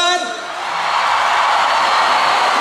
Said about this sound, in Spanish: A ver, los de ahí atrás que aplaudan.